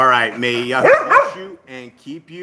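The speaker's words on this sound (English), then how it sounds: "Sorry for the dogs." Dogs bark and yip in the background while someone speaks over them, the barking partly masked by his steady voice.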